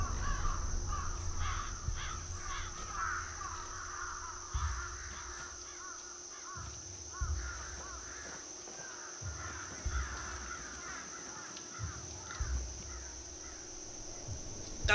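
Crows caw repeatedly in a video game scene, harsh calls overlapping in irregular bursts against a thin steady ambient hum, with occasional low thumps underneath.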